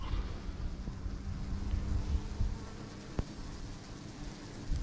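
Honeybees massed at a hive entrance with a persistent Asian hornet nearby make a continuous dense buzzing drone, steady and close, with no talk.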